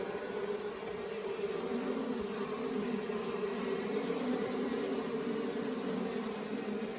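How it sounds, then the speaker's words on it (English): Africanized hybrid honey bees drone steadily at an open hive in southern Arizona, a dense continuous buzz of many insects holding even and moderately close for the whole stretch with no voices. "This is one thing that I see a lot with the Africanized bees"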